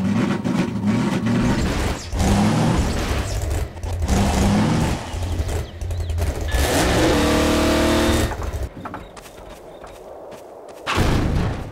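A car engine in Half-Life 2 Episode Two revs and accelerates loudly, rising in pitch through several surges with thumps and bumps along the way, then drops to a quieter idle near the end.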